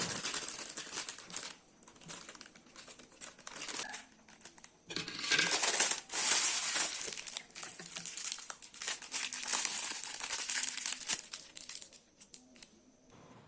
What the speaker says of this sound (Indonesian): Kemudian adonan ini kita masukkan ke dalam plastik segitiga